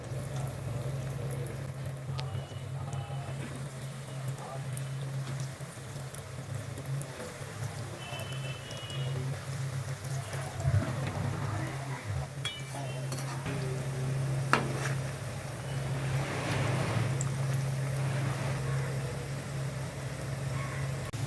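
Coated vegetable chops frying in hot oil: a steady, soft sizzle with occasional clinks of utensils and stirring, quiet and close, with a faint background hum.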